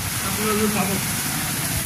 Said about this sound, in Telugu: ఫుల్ వర్షం అయితే వర్షం. ఎంత అంటే అంత వస్తుంది.